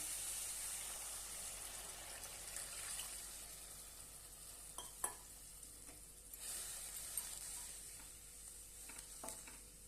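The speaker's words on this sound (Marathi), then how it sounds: "दोन वाटी आपण पाणी घालूया" A soft, steady sizzle as water is added to a hot pan of cooking fenugreek greens, with occasional light clinks and stirring scrapes, fairly quiet and close, no talking.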